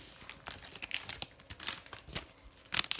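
A plastic bag that held a Monoprice Maker Select Plus replacement touch panel crinkles and rustles in quick irregular bursts, close and fairly quiet, with a sharper louder crackle near the end.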